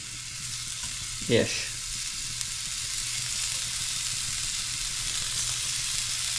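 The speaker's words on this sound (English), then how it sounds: "And we're just gonna sear these tuna steaks to about maybe a medium-ish." Tuna steaks sear in a ripping-hot cast iron pan, giving a steady, even sizzle close by, with one brief sharper clatter early on and no talking.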